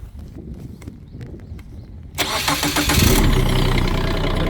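A Kubota 1-ton mini excavator engine cranks after quiet clicks, catches with a loud burst and settles into a steady close idle, with no talking.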